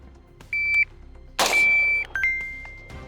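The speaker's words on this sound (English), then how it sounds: "The timer is gonna go off and we have 1 second." A shot timer on an outdoor shooting range gives a sharp electronic beep, then a loud gunshot follows with a crack and a decaying echo. Further beeps and shots trail after, from a rifle and a Glock 45 pistol during a timed drill.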